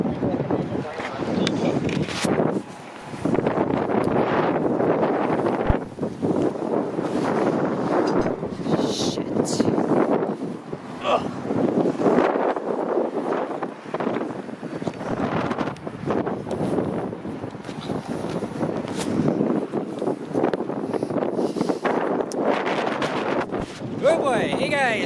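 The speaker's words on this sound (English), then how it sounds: "It's windy, a little bit anyway, but not so bad." Wind buffets a microphone outdoors on chilly Morningside Avenue in Scarborough, Toronto, gusting steadily throughout while someone talks over it.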